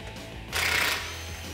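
A power tool, likely an impact wrench, removes a 21mm nut from the tie rod end on a 2021-2022 Ford Bronco, giving one short burst of about half a second amid low mechanical hum.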